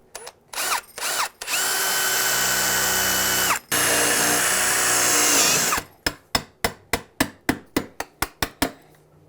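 A power drill whirs steadily for several seconds after a few short bursts, drilling out a door for a deadbolt, then a series of about ten sharp, evenly spaced knocks follows.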